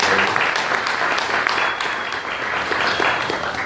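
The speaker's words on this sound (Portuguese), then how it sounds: "Palmas para a mulher." An audience at an event opening breaks into strong, continuous applause, dense clapping from many hands sustained at an even level throughout, with no voices heard over it.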